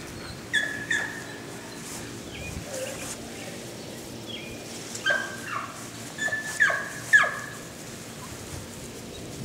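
Dog giving several short whimpering yelps and squeaky cries in scattered bursts outdoors in wet conditions, fairly close against a quiet background.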